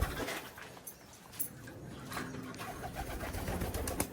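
Pigeons coo during free-flight recall training, soft repeated calls of moderate loudness over steady outdoor background noise.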